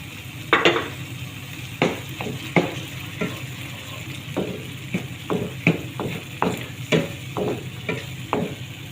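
Tomatoes being stirred in a frying pan, a steady sizzle underneath a dozen or so sharp scrapes and clinks of the utensil against the pan, coming in an uneven rhythm, close and fairly loud.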